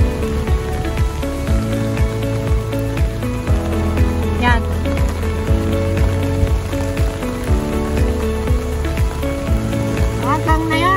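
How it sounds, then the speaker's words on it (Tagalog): Rain falls steadily outdoors near a railway construction site, a dense patter on surfaces with some mechanical hum and tonal noise underneath, and a voice briefly speaks. "umuulan pa rin"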